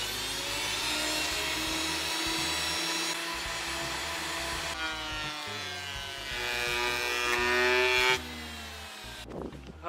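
An inexpensive electric wood planer runs steadily and loud for about eight seconds, its motor whine shifting pitch as it cuts along a workbench leg, then cuts off near the end.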